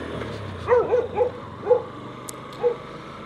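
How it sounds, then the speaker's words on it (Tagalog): Several short barks and yips from dogs at a moderate distance, spaced irregularly over a few seconds against a quiet background hum. "Ang daming aso."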